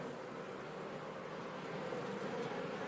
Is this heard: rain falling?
no